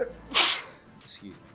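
A single sharp sneeze bursts out near the microphone during a casual drawing session, followed by a person briefly speaking.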